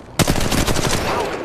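Rapid automatic gunfire in the Apex Legends Mobile video game, a burst of close, loud rattling shots starting abruptly and continuing steadily.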